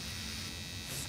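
Shaving produces a close, steady buzzing hum that holds unbroken and fairly quiet through the brief moment.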